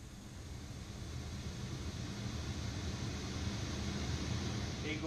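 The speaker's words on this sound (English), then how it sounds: "Here's the sound of white noise." Steady broadband white noise from a Google Home smart speaker, a constant even hiss with a low rumbling base, unchanging and alone for the whole stretch.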